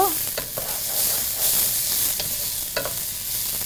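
Rice for pulao frying in hot oil in a pan, a steady close sizzle with scraping stirring strokes coming in brief bursts, no talking.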